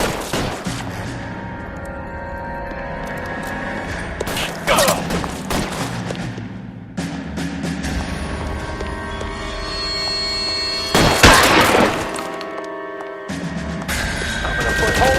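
Gunfire in the video game LA Noire crackles in loud, dense bursts over a steady background of game sound and music, with sharp broadband shots clustered around several moments.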